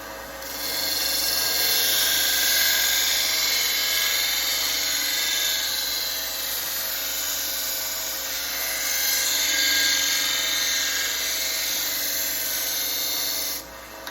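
A knife blade grinding against an electric sanding belt machine, a steady loud abrasive hiss and whine lasting almost the whole stretch, with a slight dip midway before it stops abruptly near the end.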